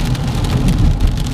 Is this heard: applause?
no